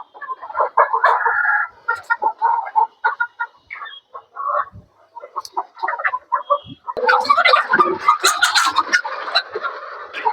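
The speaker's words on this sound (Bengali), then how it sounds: "এটা দেখুন কত মুরগি" Chickens on a rooftop farm cluck busily and steadily, close and loud, with a rooster crowing among them and a denser, excited burst of calls toward the end.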